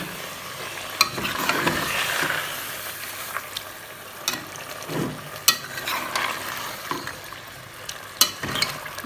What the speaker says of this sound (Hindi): धुला हुआ गोश्त। इसको खूब भूनेंगे।